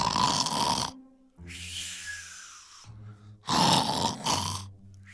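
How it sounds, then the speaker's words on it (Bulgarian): A wolf snoring in a fairy-tale scene, loud rasping inhaled snores alternating with lower rumbling exhales in a slow, repeating rhythm, close and alone without talk. "вълкът легна и захърка."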